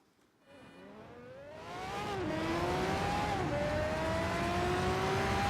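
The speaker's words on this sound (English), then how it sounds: "I'm going to be driving the Pagani Zonda R against a field of mixed AI opponents" A Pagani Zonda R race car in a racing video game accelerates from the start, its engine note climbing through rising revs and gear shifts among other AI cars, growing steadily louder without any talk.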